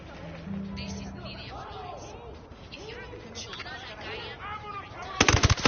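Gunfire and cannon shots in a shooter video game against a turret: rapid bursts of shots mixed with game sounds and overlapping talking voices, ending in a loud cluster of blasts.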